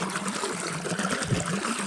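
Irrigation water runs steadily through a peanut field, making a continuous trickling, gurgling wash that stays close and even with no talking over it.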